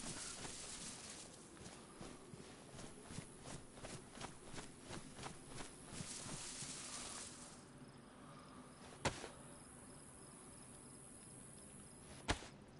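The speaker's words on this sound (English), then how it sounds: "Maybe it's just a cricket." Cricket in the DayZ video game chirps in a steady run of short, evenly spaced pulses for several seconds, then fades to quiet ambience broken by two sharp clicks.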